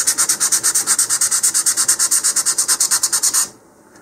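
A rocket body tube is sanded by hand near the switch band, a close, loud rasping rub in a fast, even back-and-forth rhythm of about twenty strokes that stops abruptly, leaving a quiet room.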